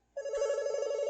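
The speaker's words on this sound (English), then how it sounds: "That's my phone." A phone starts ringing abruptly with a clear, sustained electronic tone, close and steady to the end.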